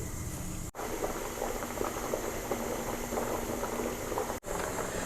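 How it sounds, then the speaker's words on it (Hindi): Spaghetti boils in a pot of water, a continuous close bubbling and gurgling with no speech, interrupted by two brief dropouts. "हमारी स्पेगेटीज़ जब अच्छी तरीके से उबल जाएं, तैयार हो जाएं, तो हम फिर इसको छानेंगे।"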